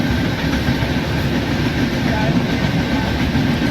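A Siliguri WDP4 locomotive running toward Anand Vihar near Ghaziabad in the Indian Train Simulator game, a steady loud rumble of engine and rolling wheels throughout, with someone talking over it.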